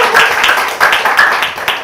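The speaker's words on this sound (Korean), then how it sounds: "여러분 다시 한번 박수 부탁드립니다" Audience applause at an indoor community seminar: a dense, steady round of many hands clapping, close and loud, sustained throughout with no voices over it.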